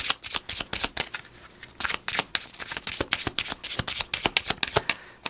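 Oracle cards for a tarot reading being shuffled by hand, with a rapid stream of crisp, close riffling slaps repeating in quick bursts.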